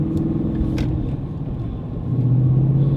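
Loud engine drone and road rumble inside a car with much of its sound deadening removed, a heavy low hum that rises into a stronger tone near the end as the engine works harder.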